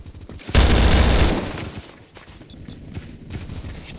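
A KSG shotgun fires in a Roblox first-person shooter, one loud close burst of rapid gunfire lasting about a second, then fading into quieter scattered game sounds and a few softer shots.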